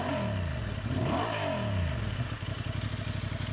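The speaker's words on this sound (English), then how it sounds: "Nice reassuring burble. Good sounding twin, isn't it?" A Honda XL750 Transalp parallel-twin engine idles with a steady, deep exhaust burble, close and loud, the rhythmic pulsing rising briefly before settling back to a lumpy idle.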